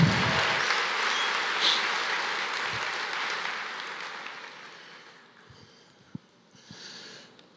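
A church congregation claps during a service, a broad wash of applause that starts loud and full, then thins and fades toward the end, with a few scattered claps trailing off.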